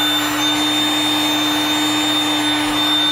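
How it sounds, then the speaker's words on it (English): A cheap standard heat gun blows steadily while shrinking a fire shield heat sleeve over AN fuel lines on a car, a constant close whirring hiss with a high whine running through the whole stretch, no talking. "Use just a standard heat gun you can buy cheap at the tool"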